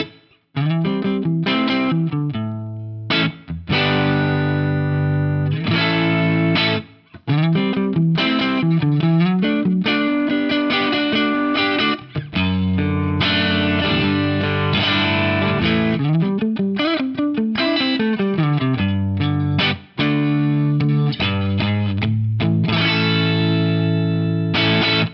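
An electric guitar played through the neck pickup of a PRS DGT, first with a compressor bypassed and then engaged, gives loud sustained chords and phrases with brief gaps, an effects-coloured tone filling the clip alone without voices.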